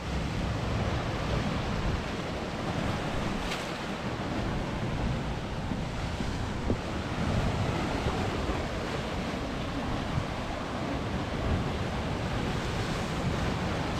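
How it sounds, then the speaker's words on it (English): Big sea waves rip in and break on a rocky Scottish shore, a steady, loud wash of surf and spray with gusty wind noise across the microphone throughout, no voices. "seeing those waves ripping in"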